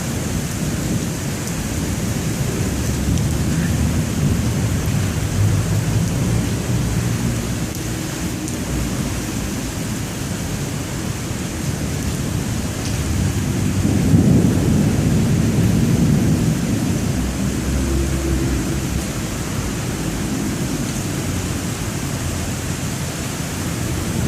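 Steady downpour from a severe thunderstorm in Dubuque, Iowa, blowing across a parking lot, a loud continuous wash of rain with a deep rumble of thunder swelling midway.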